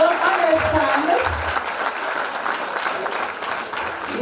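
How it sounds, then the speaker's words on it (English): Audience applause at a primary school graduation ceremony, a steady wash of clapping filling the hall for several seconds with some voices mixed in. "give them a round of applause again"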